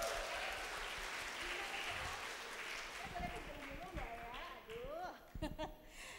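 Applause from an audience in a convention hall at a career preparation seminar, moderate and diffuse clapping that thins toward the end while voices and scattered shouts rise over it.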